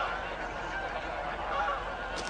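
A flock of migratory geese foraging in water honks and chatters continuously at a moderate distance, with overlapping calls forming a dense, steady din.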